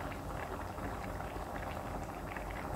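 Bamboo shoot palya bubbling in a pot, a dense continuous boil of soft popping and gurgling that stays even and close throughout, with no voices.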